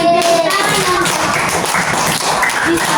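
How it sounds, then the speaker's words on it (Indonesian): Scattered clapping and tapping from a group, dense and continuous, with faint voices mixed in. "Tepuk tangan"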